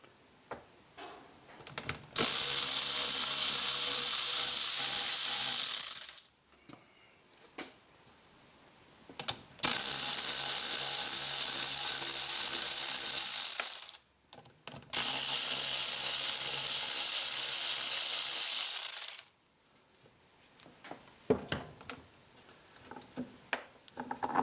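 A ratchet wrench works nuts off the air intake of a Husqvarna V-twin engine in three long, steady bursts of rapid clicking, close and loud, with short pauses between them and no talk.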